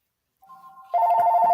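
A mobile phone ringtone starts as a soft melodic tone, then jumps to a loud, bright electronic ring that keeps sounding steadily to the end, with no voices over it.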